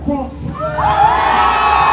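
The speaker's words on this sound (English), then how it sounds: "Getting a great cheer" A speedway crowd cheers loudly for an American rider of the Edinburgh Monarchs in a cowboy hat, at a Premier League Grand Final. Whoops and shouts swell into a sustained roar across two seconds.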